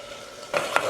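Spices and salt being mixed into a frying pan: a faint hiss, then a short burst of spoon scraping and one clink in the second half, close and brief.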